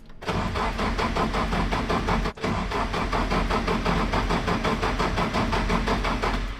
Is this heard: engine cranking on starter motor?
yes